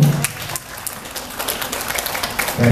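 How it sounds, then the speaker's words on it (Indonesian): Scattered clapping from women in the audience at a PKK community gathering in Condongcatur, Sleman, a short moderate burst of hands fairly close by with some faint murmuring. "Tepuk tangan ibu ya, ibu-ibu."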